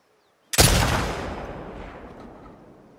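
A single loud gunshot in a video game, fired at enemies with bullet drop, cracks sharply and then rolls off in a long, fading echoing tail, with no talking over it.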